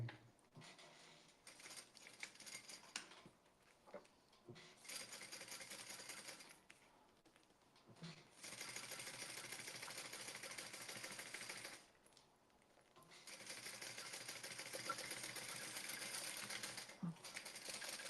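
Home sewing machine topstitching and labouring over a thick, wrong-sized key fob, running in bursts with short pauses between stitching runs; faint, no talking.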